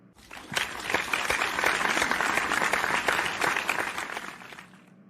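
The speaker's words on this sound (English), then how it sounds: "Everyone, clap for him." A crowd applauds, clapping swelling in quickly, holding steady and dense for several seconds, then fading out.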